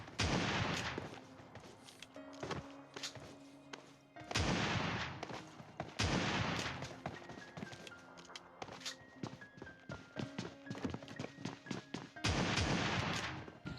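Shotgun blasts ring out in PUBG Mobile Lite during a close fight near a house, several loud sharp reports spaced a few seconds apart among footsteps and other scattered shots.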